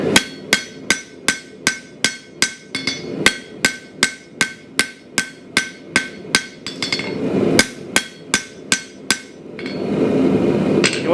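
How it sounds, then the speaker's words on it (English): A hammer rings out in a steady series of sharp, close blows on a hand-forged frontier-style knife blade made from a coil spring, falling in an even rhythm with brief pauses and a duller rushing noise near the end. "straighten that out just by expanding the other side of your blade by hammering on that side"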